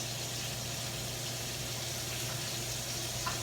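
Garlic, onions and peppers sweating gently in a pan, a soft, even, continuous sizzle held at low level with no breaks or louder pops.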